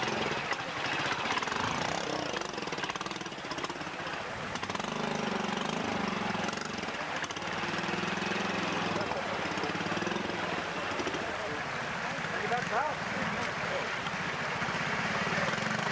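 Ariel 500 trials motorcycle at a pre-65 Scottish trial, its engine putting steadily at low revs from mid-distance outdoors, rising and falling with throttle beneath a commentator's voice.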